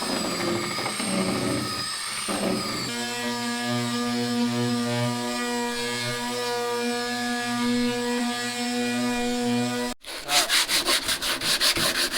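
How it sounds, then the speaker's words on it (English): Sanding outdoors on an epoxy-coated wooden dinghy, a continuous rough grinding rub from a power sander with a droning hum, steady and close, then a brief pause and rhythmic rasping strokes. "I'm going to see if I can't drag the boat outside to do the sanding on it"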